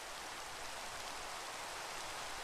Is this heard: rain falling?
yes